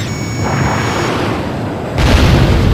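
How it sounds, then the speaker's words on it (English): A hostile submarine's missile launch in the flight combat game Ace Combat Joint Assault, a sustained roaring rumble under engine drone that surges abruptly louder near the end as the launch blast hits, no talking. "Missile launch from the hostile sub."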